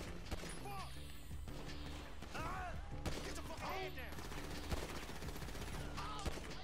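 Scattered gunfire in GTA 5, shots and bursts mixed with crashes and chirping game effects in a busy, fairly quiet mix, with voices talking underneath.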